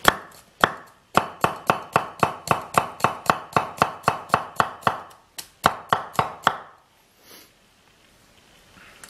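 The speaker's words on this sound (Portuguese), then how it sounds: "como vocês veem, a faca tritura ele sem dificuldade nenhuma" A handmade Chinese cleaver chops through a soft, slightly old bell pepper on a board, a rapid even series of about twenty sharp knocks in two bursts, close and crisp, then quiet.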